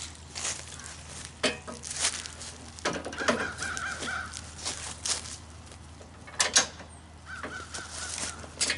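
Crows caw outdoors in a series of loud, close, harsh calls that come in irregular bursts, over a steady low background hum of outdoor noise.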